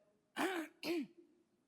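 Two short, harsh coughs about half a second apart, close and fairly loud, with quiet room tone between and after them.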